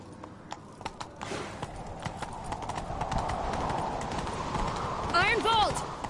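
Horse hooves galloping in The Witcher 3 video game, a steady rapid clip-clop running throughout at moderate loudness beneath game music and ambient sound, with a brief whinny-like call near the end.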